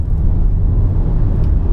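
A 2019 Nissan Leaf electric car slows under braking on a hill climb, a loud steady low road and tyre rumble from inside the cabin with no engine note and no talking.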